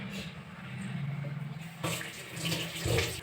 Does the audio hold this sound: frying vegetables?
no